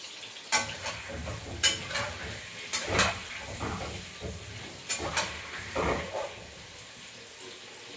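Salted potatoes sizzle steadily in a pan, broken by sharp stirring scrapes and clinks at irregular intervals, quiet and close.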